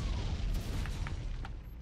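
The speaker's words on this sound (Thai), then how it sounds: "เฮ้ยระเบิดไปแล้ว" A pipe blowing up in the video game Super Sus, heard as a low, rumbling boom that holds for nearly two seconds and mixes with faint short clicks and pops from the game.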